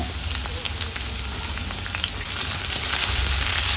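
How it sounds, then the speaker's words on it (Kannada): Finely chopped ginger and garlic fry in hot oil over a low flame, giving a steady, close sizzle with light crackles that swells slightly toward the end. "ಒಂದು 2 ನಿಮಿಷ ಆದ್ರೂ ಈ ಕಟ್ ಮಾಡಿದ್ದ ಶುಂಠಿ ಮತ್ತು ಬೆಳ್ಳುಳ್ಳಿನ ಫ್ರೈ ಮಾಡ್ಕೊಳ್ಬೇಕು ನಿಧಾನ ಉರಿಯಲ್ಲಿ."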